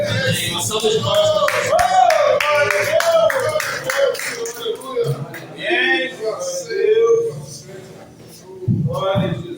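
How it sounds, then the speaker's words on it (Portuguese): Clapping rises from a church congregation during a worship service alongside singing and voices, rhythmic hand claps mixed beneath louder music and talk. "Uma salva de palmas."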